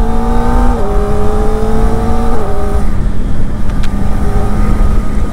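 A Kawasaki Ninja ZX-4RR motorcycle accelerates on a rough road with sharp small stones, its engine note climbing through gear changes and rising again, loud and close with wind noise and no speech.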